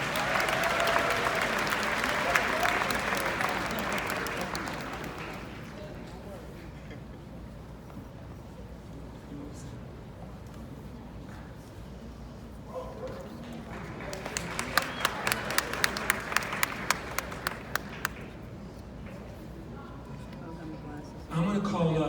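Applause from a middle school graduation audience, dense and sustained at first, then fading to a quieter room before a second, livelier burst of clapping swells near the end.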